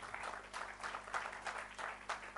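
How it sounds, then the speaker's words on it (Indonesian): Church congregation claps during a sermon, soft bursts of clapping rising and falling in a loose, repeating rhythm with no voice over it. "Tepuk tangan buat Tuhan"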